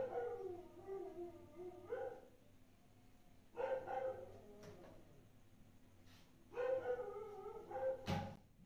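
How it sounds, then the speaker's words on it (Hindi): A dog barks and howls in three separate drawn-out bouts, faint and somewhat distant over low background hum. "फाइनली चुप करा कुत्ता।"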